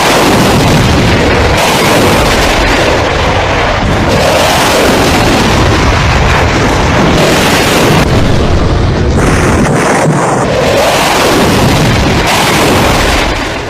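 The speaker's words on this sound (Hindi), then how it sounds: "कुछ इस तरह रफाल ने मिसाइल फायर की" A Rafale jet fires missiles amid a loud, continuous barrage of booms and blasts that rumbles without pause, dense and overwhelming throughout.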